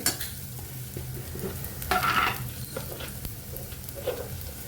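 Sprouted urad dal curry being stir-fried in a pan: steady sizzling with a spatula scraping and clinking against the metal, bursts of stirring coming and going, no talking.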